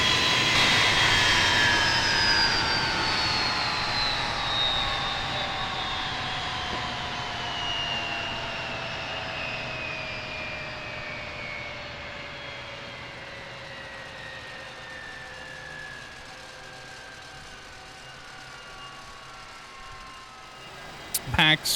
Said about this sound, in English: we can go ahead and shut the engines down